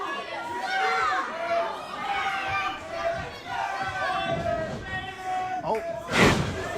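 Wrestling crowd at a Monster Factory Pro Wrestling event jeering Brian Morris, a dense roar of voices and chatter filling the arena with occasional thumps, building to a loud burst near the end.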